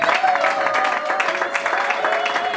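Church congregation clapping and cheering together at a worship service, a dense steady wash of applause with voices mixed in, loud and continuous throughout.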